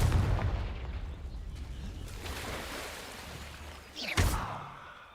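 A Confringo blasting spell in Hogwarts Legacy explodes with a sharp, loud burst near the end, preceded by a rumbling, fading blast and a low rushing background.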